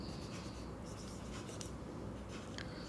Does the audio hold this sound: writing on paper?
yes